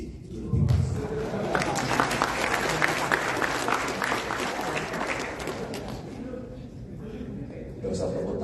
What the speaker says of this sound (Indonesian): Tidak usah tepuk tangan dulu.